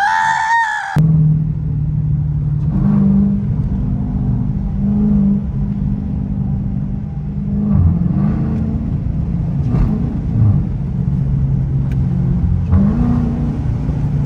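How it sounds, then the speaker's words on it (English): A Dodge Challenger RT driven with no hood gives a loud, steady engine intake roar and rumble. The pitch rises and falls slightly as the car moves, and a brief higher noise sits at the very start. "Y'all can hear my intake"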